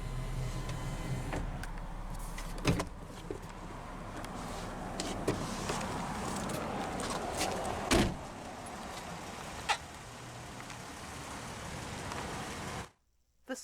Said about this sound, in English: Both front windows are automatic down.